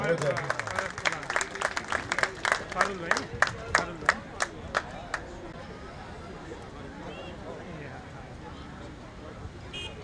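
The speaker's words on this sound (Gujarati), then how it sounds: "આટલા બધા દાતાઓ જેમને સન્માન મેળવ્યો છે એમને બધાના વતી એક વખત જોરદાર તાળીઓ" At a mass wedding ceremony in Ahmedabad, a crowd claps in quick, regular unison for about five seconds to honour donors, then fades into background murmur and ambient noise.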